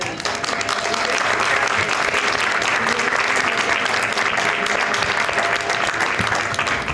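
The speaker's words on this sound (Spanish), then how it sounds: "Sí, eso, vamos a aplaudir." Sustained applause from a large audience at a memorial tribute event fills the space loudly and evenly, a dense wash of many hands clapping at once with no voices standing out.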